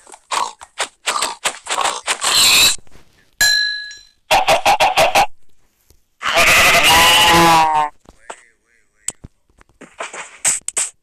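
Short bursts of sheep bleating in Minecraft, rising loud and clear between clicks and chimes, with one long wavering bleat in the middle.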